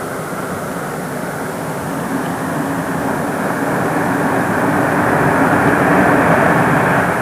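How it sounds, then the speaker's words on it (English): Concorde supersonic airliner at London Airport, a steady, loud broadband jet roar that builds slowly over several seconds with no voices. "Concorde at London Airport, a scene that will become increasingly familiar as the years go by."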